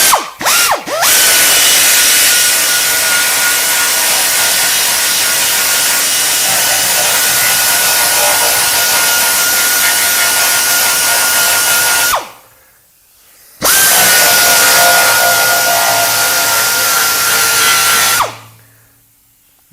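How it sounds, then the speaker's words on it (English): A belt sander working a Ford Escort Mk1 door panel: a loud, steady abrasive whine runs for about twelve seconds, cuts off briefly, then resumes for several more seconds before stopping, with no talk. "the belt sanders just will do it nice and easy"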